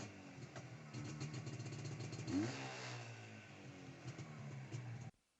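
A classic Jawa motorcycle rides through the streets of Havana, its mid-pitched engine running steadily and close by, with a brief rev near the middle before it cuts off abruptly at the end.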